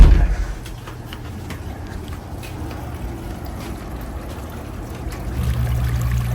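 A garden water fountain bubbles and trickles continuously at a gentle, steady level, fairly close, with low background rumble.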